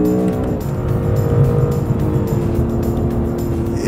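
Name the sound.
Honda NSX 2016 V6 turbo engine revving in manual mode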